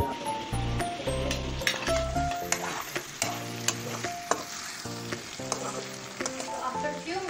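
Onion fries in a pan with a bright, continuous sizzle and occasional stirring scrapes, heard under tonal background music.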